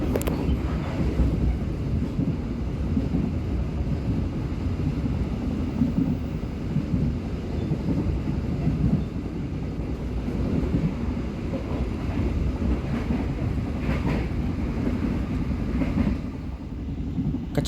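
Interior rumble of the Gaya Baru Malam Selatan passenger train running at about 95 km/h after leaving Kutoarjo station, a steady low roar with rattling and occasional faint knocks, continuous throughout.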